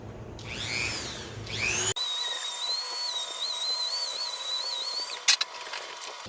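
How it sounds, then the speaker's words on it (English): Dremel grinding a stopper ring out of the inside of a pipe: a short burst of rising whine, then a steady high-pitched grinding whir held for several seconds, close and loud, ending with a few clacks. "I'm just going to Dremel that little ring, the little stopper ring, out of the inside"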